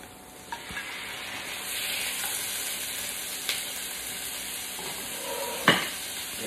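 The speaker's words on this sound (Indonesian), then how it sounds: "kita goreng sampai dia separuh masak" Oil sizzles steadily as chicken fries in a pan until half cooked, with a few light clinks and scrapes of a utensil stirring.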